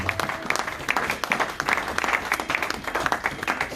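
A church congregation breaks into applause, a loud, steady patter of many hands clapping in a rhythmic wash that continues throughout.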